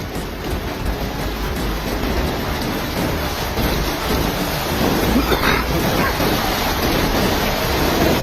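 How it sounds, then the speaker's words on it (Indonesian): Heavy rain pours during a flood in Semarang, Indonesia, a loud, dense, steady hiss and roar that fills the whole stretch without pause. "wilayah kota Semarang diguyur hujan deras hingga berjam-jam"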